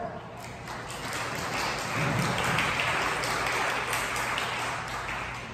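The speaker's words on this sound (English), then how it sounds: "Please clap your hands." A church congregation at a Lutheran service claps after the sermon on Father's Day, a dense, sustained wash of applause filling the hall at moderate loudness, with a faint voice underneath.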